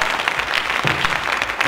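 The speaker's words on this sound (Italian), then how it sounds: "Un applauso calorese che arriva da Osimo." Warm audience applause at a World Space Week event honoring excellence in the Marche region, a brief burst of continuous, fairly loud clapping.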